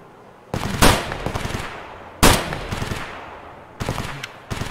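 Gunfire in the game Escape from Tarkov: three loud, close bursts of rapid automatic shots separated by short pauses, each with a sharp crack and a fading tail.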